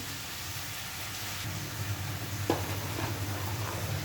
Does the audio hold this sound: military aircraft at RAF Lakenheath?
no